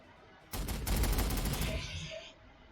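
A single loud burst of heavy bolter fire in Warhammer 40,000: Sanctus Reach, rapid thudding shots that start abruptly, run for about two seconds and tail off.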